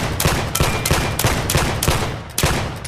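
Revolver fire from the NXS Hammer in the VR shooter Vail: about six sharp, loud shots in a steady rhythm roughly half a second apart, with no talking.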